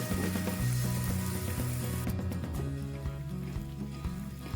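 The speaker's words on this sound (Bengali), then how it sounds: "লালচে করে পেঁয়াজটা ভেজে নিতে হবে।" Chopped onions sizzle steadily in hot oil, a constant crackling hiss with music playing underneath.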